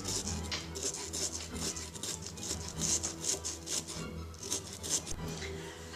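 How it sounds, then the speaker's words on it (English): A small carving saw cuts down through a pumpkin along a pattern, making a continuous rasping, scratchy sawing with rapid strokes at close range and no talking. "saw across the pattern, or down in this case. Put it in and just go down."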